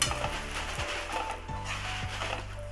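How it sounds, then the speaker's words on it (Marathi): Mustard seeds roast in oil in a pan, a close crackling sizzle with sharp popping, mixed with metallic scraping of a spoon against the pan and a steady low hum. "तेल टाकून मोहरी पण भाजून घेते"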